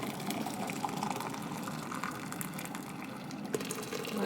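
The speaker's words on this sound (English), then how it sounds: "until I fill the jar completely" Hot water pours steadily into a jar packed with plant material such as rosemary and lavender for eco-printing on paper, a continuous soft gushing and splashing that stays even and fairly faint throughout, with no speech.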